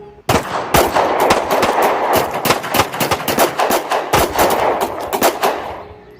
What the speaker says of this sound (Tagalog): Muling umalingaw-ngaw ang putukan.